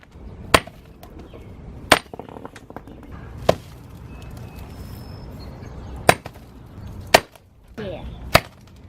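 Several sharp, loud hammer strikes land on a stone geode at irregular intervals, with quiet pauses between blows as it is smashed open.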